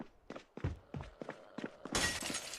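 Glass shatters inside a building in the zombie survival game Project Zomboid, a sharp crash near the end following a series of dull thumping footsteps, fairly faint overall.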